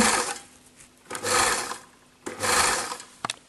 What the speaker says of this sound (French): on surpique tout au bord en prenant un repère avec la machine